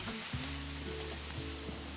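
Steady, close sizzling of turkey lentil burgers frying on a hot plancha, a constant crackling hiss with a low hum beneath.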